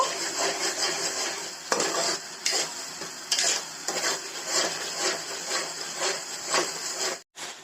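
A spoon stirring fish curry with tomato and peas in a pan over a medium-low gas flame, repeated scraping strokes against the metal in a steady rhythm with a light sizzle underneath, close and clear, no talking.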